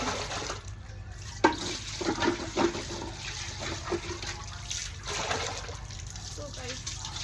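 Tap water running into a pot for cooking rice at home, a steady splashing flow close by with brief louder spatters and faint background voices.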